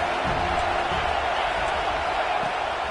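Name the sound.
stadium crowd cheering in a video game (College Football 26)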